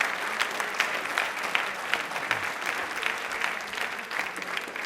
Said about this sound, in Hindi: एक बार तालियां जोरदार हो जाए